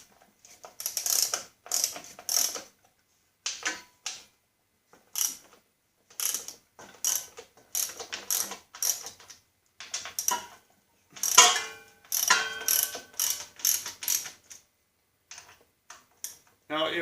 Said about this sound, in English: There's 6 bolts we have to break loose to get this thing off of here.